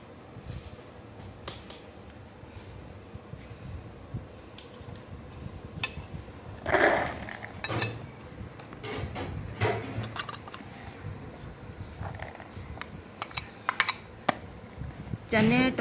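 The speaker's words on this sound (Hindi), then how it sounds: "इन सारी चीज़ों को आप मिक्स कर लेंगे।" Black chana chaat with chickpeas, tomatoes, onion, boiled potato and chaat masala is stirred in a bowl, giving irregular soft clinks and scraping taps of a spoon, faint and close, with spoken voice in between.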